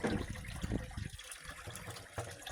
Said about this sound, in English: he stops the pump. You hear it now, can't he? And then the water level comes up the ring, the float goes up